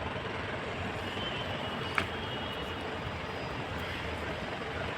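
Airplane near the Andheri international airport in Mumbai, a broad steady engine roar filling the air at moderate distance, continuous with no speech.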